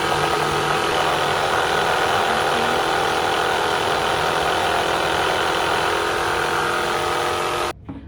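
A Wagner Control Pro 130 paint sprayer runs loud and close with a continuous steady motor hum and pumping drone, held without a break until it cuts off abruptly near the end.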